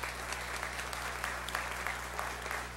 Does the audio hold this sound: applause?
yes